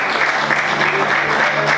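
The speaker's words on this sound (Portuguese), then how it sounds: "Você pode aplaudir Jesus, dizendo glória a Deus, dizendo aleluia, exaltando a Ele nessa noite." Church congregation applauding during an evening worship service, a dense steady wash of clapping hands filling the room, loud and continuous without pause.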